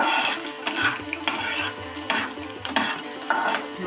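Chopped onion and curry leaves sautéing in a pan as a spatula scrapes and turns them in repeated strokes over a soft, continuous sizzle, close and fairly quiet.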